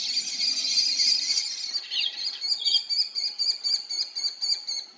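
Common kestrel fledglings on a rooftop begging for food, a shrill sustained squeal shifting into a rapid series of repeated high-pitched calls, fairly close and loud.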